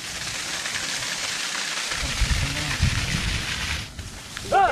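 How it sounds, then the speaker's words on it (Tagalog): Light rain falling steadily near a waterfall, a continuous broadband hiss that swells slightly, with low rumbling and a brief voice near the end. "Lumalakas na yung ambon no."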